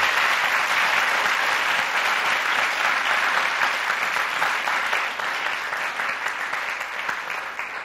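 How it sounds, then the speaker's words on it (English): Audience applause for a Patagonia executive after a university talk on supply chain management: sustained, dense clapping from a seated crowd, loud at first and easing slightly toward the end, with no talk. "let's give Doug a big round of applause"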